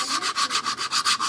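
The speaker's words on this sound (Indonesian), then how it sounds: "kita amplas di bagian ini, kita amplas" Sandpaper rubbed back and forth over the gear mount of a Philips blender, about eight quick, even scraping strokes close up with no talk.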